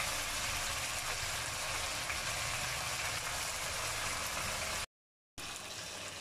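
Chicken cheese boti kabab sizzling while cooking, a steady broadband frying hiss close by and fairly quiet, running unbroken before a brief cut.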